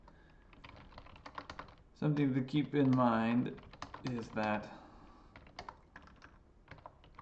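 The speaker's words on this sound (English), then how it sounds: "I'm typing as I talk here" Typing on a computer keyboard produces scattered clicky keystrokes close to the microphone, running under and between a person's speech.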